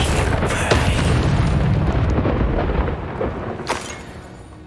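Confringo blasting spell explosion in the Hogwarts Legacy game: a loud booming blast that rumbles and fades over a few seconds, followed by a couple of fainter crackling bursts, no speech.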